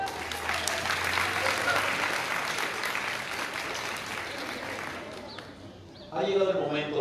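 Audience applause fills a university anniversary ceremony hall, steady and sustained for about six seconds before fading, then a voice begins speaking near the end.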